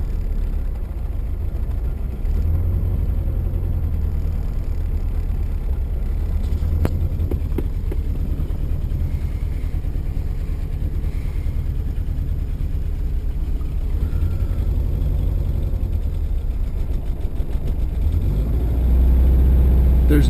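A Horizon car engine idling in neutral on a cold start, a steady low rumble that holds for the full twenty seconds and swells slightly near the end.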